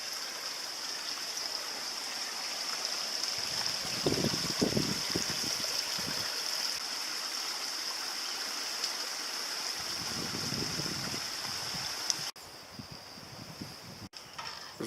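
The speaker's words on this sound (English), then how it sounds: "you can see the water just coming out from under that limestone rock" Spring water pouring out from under limestone rock near the Rumbling Springs Trail at Fort Richardson State Park, a steady close gurgling rush that swells in splashy bursts before dropping quieter near the end.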